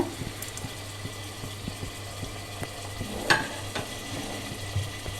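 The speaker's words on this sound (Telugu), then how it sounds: "కొంచెం సన్నసేగన ఈ పుచ్చగింజలు చిటాపటని ఎగురుతాయి" Watermelon seeds dry-roasting in a pan give off sparse, scattered crackles and small pops over a low steady hum, close and fairly quiet, with one sharper pop partway through.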